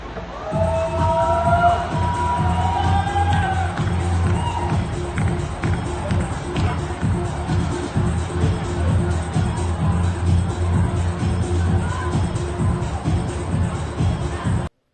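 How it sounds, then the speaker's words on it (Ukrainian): Loud outdoor disco crowd at night in a residential district of Ivano-Frankivsk, a continuous dense din of shouting and cheering young people over a thumping music beat, heard alone and close. "Від музики і вигуків молоді мешканці спального району не можуть заснути, адже весь цей шабаш чутно на сотні метрів."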